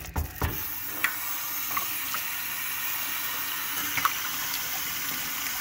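Water runs steadily from a sink tap while rock tumbling is prepared, a constant close hiss of the stream with a few faint knocks and clinks near the start.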